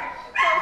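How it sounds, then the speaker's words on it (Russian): A dog at an animal shelter gives a single short, close bark that rises into a whiny yelp, brief and fairly loud. "Пока это все собачки, которые есть у нас."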